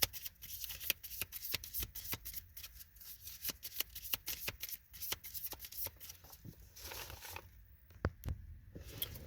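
Tarot cards are shuffled close up, giving a rapid, crisp riffling patter with quick flicks repeating steadily for about nine seconds.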